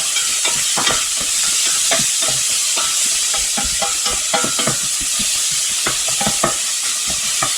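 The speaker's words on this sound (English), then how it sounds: "and the small diced carrots. Give them a nice stir." Diced carrots and onions frying in a pan for sausage risotto, with a steady loud sizzle broken by repeated scraping stirs of a utensil throughout, no voices.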